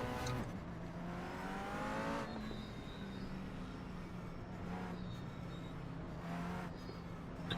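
Race car engines in a racing video game drone and rev continuously, rising and falling in pitch as cars accelerate and pass, with faint tire squeal and no talking.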